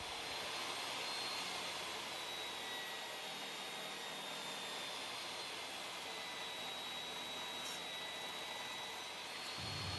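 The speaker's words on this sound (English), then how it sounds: "Here I'm resawing this small piece that will become the legs of the platform." A table saw resaws a small piece of oak into stock for legs, a loud steady whine of blade and motor held at constant pitch throughout, with a faint high tone riding over it.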